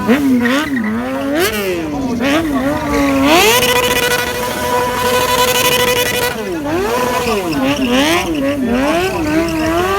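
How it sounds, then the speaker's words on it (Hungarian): A motorcycle does a circling burnout at a live stunt riding show, its engine revving loud and wavering up and down over about ten seconds while a commentator talks continuously over it. "Jön a burnout, de gyönyörű lábletétellel, körbe-körbe, mint hogyha körzőt szúrna be."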